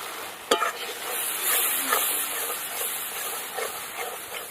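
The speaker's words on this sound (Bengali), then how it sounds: "সব কিছু দিয়ে এবার ভালো করে কিন্তু মশলাটা কষিয়ে নিতে হবে।" A spice paste of mustard, ginger, green chili and turmeric, with fried onion and tomato, sizzles in a pan while a spoon stirs it, opening with a sharp scrape and then a steady frying hiss underneath.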